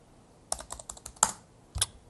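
Keys clack on a CLVX1 computer keyboard, a burst of close, crisp taps at an uneven pace with short gaps between, then a final sharper pair of strokes, with no voices.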